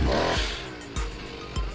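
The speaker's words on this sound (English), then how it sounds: "The chainsaw seems to be running fine." A petrol strimmer with a chainsaw attachment fitted runs steadily near the microphone, its engine droning with two brief surges in revving.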